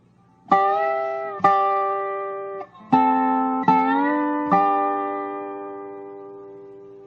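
Dobro played in two-string chords: five or six plucked notes ringing with slide glides between pitches, each decaying before the next, clear and close with no talk.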